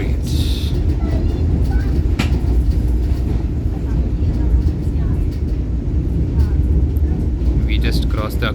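Vande Bharat Express running between Mangaluru and Mumbai near Kumta and the Aghanashini river, a steady loud low rumble of the carriage rolling on rails with a brief high squeal early on; speech is also present.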